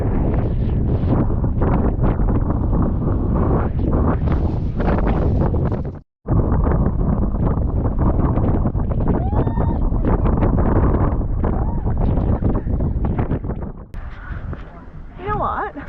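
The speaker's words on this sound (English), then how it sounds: "Oh, it's windy." Strong wind blowing across the sand dunes at Rottnest Island, a continuous loud rumble and buffeting against the microphone, with a brief dropout partway and people talking underneath.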